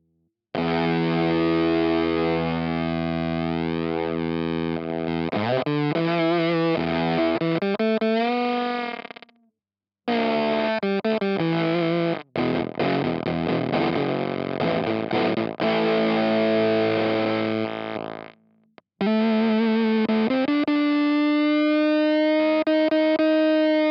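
Electric guitar played through a Riff Pedal Co. Peach Fuzz pedal set for a gated, spitty fuzz tone: loud sustained distorted chords and single notes that cut off abruptly into silence between phrases, with no talking.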